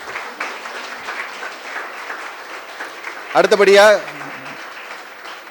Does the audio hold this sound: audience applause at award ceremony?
yes